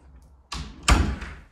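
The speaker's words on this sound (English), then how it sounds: "Let's close that door." A house door swings shut with a loud thud and a slam in an indoor room, preceded by a softer bump, then a brief fading rattle and no voices.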